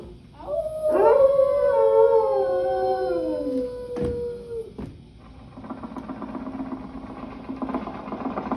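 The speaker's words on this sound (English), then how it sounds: "using that old exercise machine she rescued from the attic" An old 1920s exercise machine runs with a steady mechanical whir in the second half. A dog howls loudly over it earlier, with rising and falling wails at a moderate distance.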